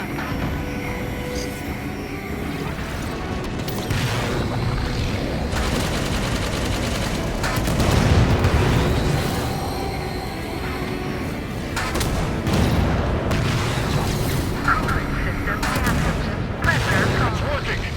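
Sustained gunfire and explosive blasts from Halo 5: Guardians, dense and continuous over the full stretch with heavy low rumbles, mixed with game effects and faint voices beneath.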